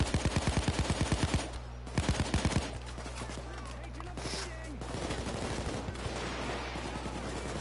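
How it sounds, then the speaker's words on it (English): Video game gunfire opens with a rapid rhythmic string of close, punchy shots, then pauses and returns in a short burst before settling into a busy, rumbling wash of combat noise. "Holy shit, I'm getting sniped"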